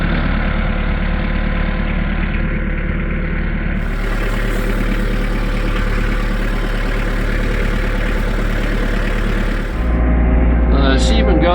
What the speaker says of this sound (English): when they hear the tractor fire up